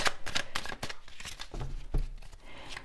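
Tarot cards are shuffled close up in a continuous run of rapid riffling flicks and papery slaps, with no talking.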